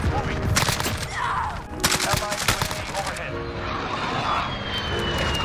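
CR-56 AMAX assault rifle firing in Modern Warfare, loud automatic bursts in short clusters with game ambience and someone talking over the shots.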